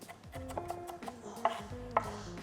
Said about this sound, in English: I'm just gonna run my knife over the onion